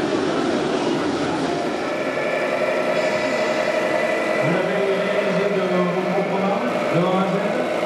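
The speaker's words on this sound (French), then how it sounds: "D'ailleurs, je vais vous faire écouter le bruit du moteur." A radio-controlled model truck engine runs at a model-building festival, giving a continuous dense mechanical whirr with a shifting pitch. The sound stays steady and loud throughout, with some background crowd noise and faint voices.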